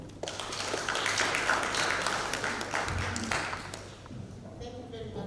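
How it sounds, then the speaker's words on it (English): Audience applause fills a hall at a health summit in Tanzania, a steady dense clapping sustained for several seconds before thinning out near the end. "So let us do a clap for them."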